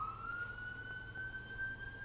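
A police siren wails outside on a city street, a steady, faint, slowly rising tone heard at a distance under low background hum.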